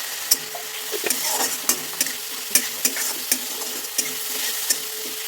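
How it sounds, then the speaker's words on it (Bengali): Ground spices — chilli, turmeric and cumin powder — sautéed in oil for a Bengali cauliflower-stalk chorchori, with steady sizzling and repeated sharp scrapes of a spoon against the pan, close and alone. "ভালো করে মশলাটাকে একটু কষিয়ে নিতে হবে"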